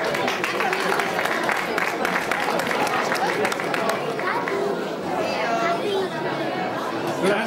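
Applause rises from the crowd at a cyclocross race award ceremony in Spilimbergo, 2011. Scattered clapping runs under dense crowd chatter, and people talk throughout.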